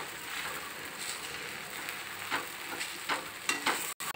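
A spoon scrapes and stirs sabudana khichadi with crushed peanuts in a pan over a low gas flame, giving a soft, faint sizzle with intermittent stirring strokes.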